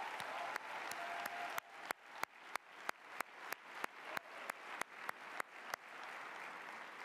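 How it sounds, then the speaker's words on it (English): A gala dinner audience at a pro-Israel conference applauds honored members of Congress, a soft dense patter of clapping with a series of sharp, evenly spaced loud claps from one nearby person running through the middle, fairly quiet overall. "A round of applause."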